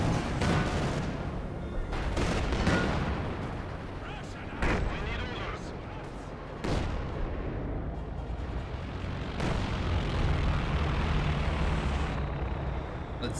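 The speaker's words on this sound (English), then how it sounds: "So, Su-85's trying to put shots over there." Su-85 tank destroyers fire repeated shots in Company of Heroes 2, a 4v4 Lanzerath Ambush battle: several sharp, loud cannon blasts with booming tails ring out at irregular intervals over a rumbling battlefield backdrop.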